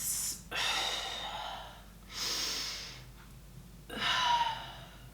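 Three slow, deep breaths during a morning stretching routine, each a breathy rushing inhale or exhale close to the mic, separated by short quiet gaps, with no talking.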